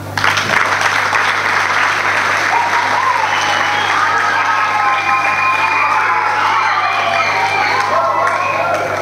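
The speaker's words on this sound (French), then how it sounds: "Je vous prie d'applaudir les parents." Pupils and guests at a school student-government investiture ceremony in the Democratic Republic of Congo applaud the parents with loud, continuous clapping, mixed with cheers, children's shouts and a voice speaking over the crowd.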